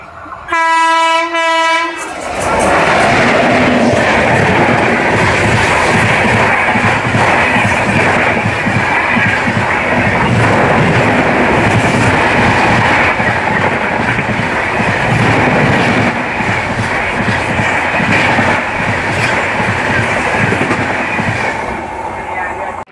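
Express train racing past at high speed on a single line, opening with a loud horn blast followed by a sustained, close roar of wheels and carriages with rhythmic clatter.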